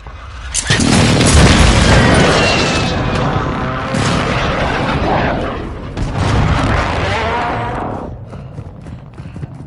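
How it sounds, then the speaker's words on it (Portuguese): Heavy air strike explosions in Call of Duty roar as loud, sustained booming blasts that rumble on and off for nearly ten seconds, with no talk over them. "Os inimigos chamaram um ataque aéreo."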